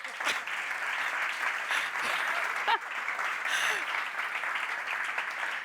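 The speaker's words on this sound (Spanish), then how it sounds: "¿Den un aplauso?" Audience at a meeting on energy and renewables applauding, a fairly distant, even wash of clapping that holds steady throughout.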